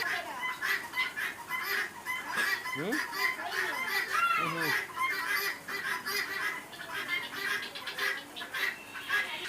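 Five-month-old hens on a small poultry farm cluck and squawk in a busy overlapping chorus, with a few louder calls rising above the continuous background clucking.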